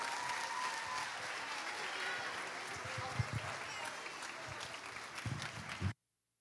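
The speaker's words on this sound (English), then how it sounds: "Round of applause." Audience applause at a school spring chorus concert as fifth and sixth grade choral performers are introduced, a dense, steady wash of many hands clapping that continues for about six seconds and then cuts off abruptly.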